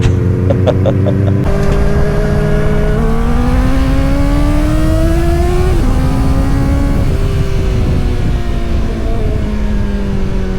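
A Kawasaki ZX-4RR and a Yamaha R3 on a road ride to Bukidnon: loud, continuous engine drone whose pitch climbs steadily as the bike accelerates, with heavy wind rush over the microphone throughout.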